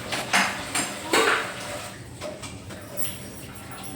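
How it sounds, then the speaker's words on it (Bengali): A metal wok set down on a kitchen stove while cooking chicken chowmein, giving a few sharp clanks and knocks in the first second or so. Quieter faint clatter follows. "আবারও আমরা কড়া বসিয়ে দিলাম।"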